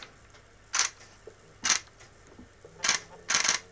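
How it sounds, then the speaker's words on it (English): A Nikon Zf camera's mechanical shutter fires four crisp, close clicks at uneven intervals, the last two in quick succession, against a quiet room. "it's got a mechanical shutter in there, which sounds very nice."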